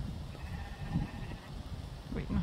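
Sheep bleat at a Finnish sheepdog trial final, a few short wavering calls heard over low outdoor rumble and faint background voices, moderately close.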